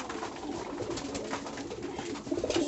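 Several pigeons coo continuously close by, a soft, overlapping, throaty murmur that swells slightly toward the end.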